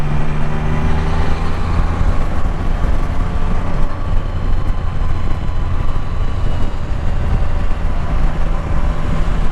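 A Can-Am Spyder three-wheel motorcycle rides through wildfire smoke in Canada, with a loud, continuous engine and wind rumble that stays steady throughout.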